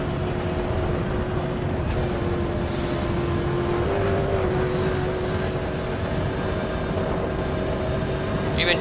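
Car engine in the Need for Speed World racing game, a loud steady drone with a sustained tonal whine that shifts pitch slightly midway, rough and tractor-like, running continuously.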